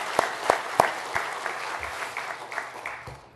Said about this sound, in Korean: 오늘 수고한 양산교구 박수 한번 합시다.